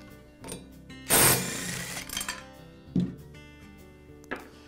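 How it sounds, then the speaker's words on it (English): Blade bolt being loosened on a Skil circular saw, a reverse-thread bolt: scattered clanks and scraping with one louder burst of grinding and rattling, close and fairly loud, with no voices. "I'll begin by removing the blade bolt."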